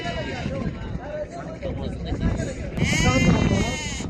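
Sheep bleat amid a crowded market, voices chattering around them, with louder bleating toward the end.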